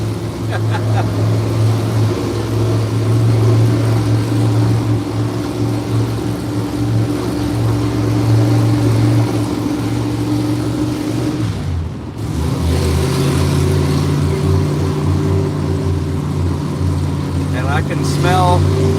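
A car with a performance camshaft rumbles and idles loudly nearby on a Saturday night cruise in Chehalis and Centralia, Washington, with a lopey engine drone and a rev change midway.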